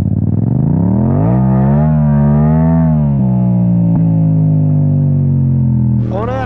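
A Yamaha MT-07 motorcycle with an Akrapovic exhaust revs up and settles into a loud, close, steady engine drone with rising and falling pitch, then blips sharply again at the end.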